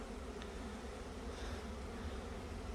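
Newly caught swarms of honey bees at an apiary hive make a steady, dense buzzing hum that stays fairly close and even throughout, with no talking.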